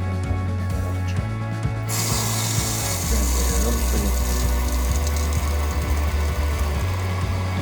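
Adjustment screw on a water pump pressure switch being tightened, heard as close mechanical clicking and ratcheting over a steady low motor hum that shifts pitch partway through.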